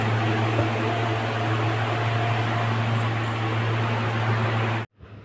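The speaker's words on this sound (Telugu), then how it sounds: "ఫ్యాన్ సౌండ్ అయితే వస్తుంది" A table fan runs in a home kitchen, producing a steady broadband whoosh with a low motor hum that continues evenly, then cuts off abruptly near the end.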